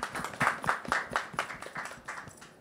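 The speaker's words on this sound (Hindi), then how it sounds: "इस बात पे ताली हो जाए।" Audience clapping at a public event where a woman ride-hailing driver is being honoured, about a dozen distinct claps in an uneven rhythm, moderately close and fairly quiet, with no voices over them.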